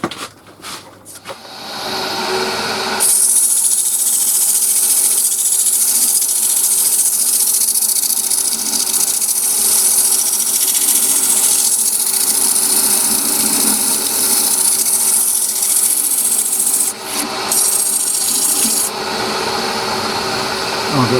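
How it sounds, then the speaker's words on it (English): Sandpaper hisses steadily against a turned wooden lidded pot spinning on a lathe, a loud continuous broadband rasp with a motor hum beneath, starting after a few seconds of clunks and dipping briefly near the end. "Right, bit of sanding then."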